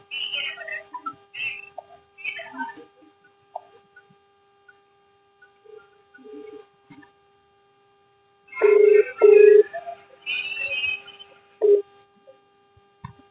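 A telephone rings and chirps during a call, giving a series of short electronic tones and bursts in an irregular pattern, with louder clustered rings later on, moderately close against a quiet background.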